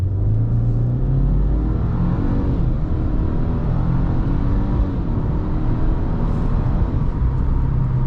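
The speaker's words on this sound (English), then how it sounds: "Now I do want to try a acceleration, so basically just come to a stop right here." A 2022 Subaru WRX GT with the performance transmission pulls away hard from a standstill, its engine rumble loud, close and unbroken as it builds speed, with no voices over it.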